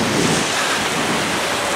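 A small waterfall at Rhiwargor Falls rushes in a steady, loud broadband roar with no pauses.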